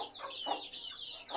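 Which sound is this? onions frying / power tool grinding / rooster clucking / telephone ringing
rooster clucking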